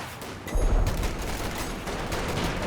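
Artillery fire during a 2v2 Company of Heroes 2 battle, a sudden heavy blast followed by a dense, rumbling barrage of booms and crackling impacts that stays loud to the end.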